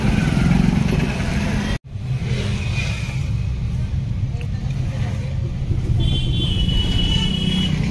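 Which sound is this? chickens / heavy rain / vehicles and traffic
vehicles and traffic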